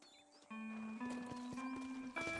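Horses in Red Dead Redemption, heard as steady hoof clops beneath a sustained musical tone, with soft thuds spaced through the passage at low overall volume.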